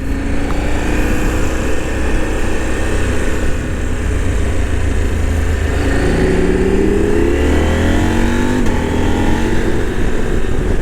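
A 2023 KTM 890 Adventure motorcycle engine roars steadily with rising revs and quick-shifter gear changes, loud and continuous, with wind noise in the background.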